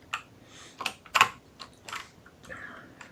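Keys clack on a computer keyboard in short irregular bursts, close and fairly soft, with small gaps between clusters of strokes.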